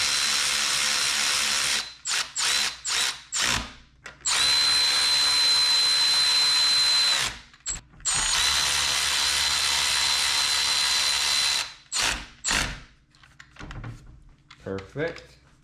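A power drill tightens bolts on a Subaru EJ engine in repeated close bursts of whirring, some short and some held for several seconds, with pauses and light handling clicks between them.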